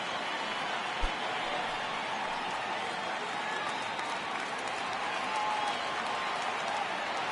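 Video-game baseball stadium crowd of over 39,000 applauding and cheering on their feet, a broad steady roar throughout with a brief thump near the start.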